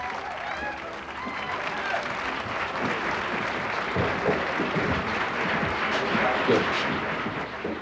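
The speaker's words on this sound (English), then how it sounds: "listens to the nature of the applause" A theatre audience applauds after the final lines of a play in a history cycle, a dense, sustained roar of clapping from a large crowd that holds steady and swells slightly toward the end.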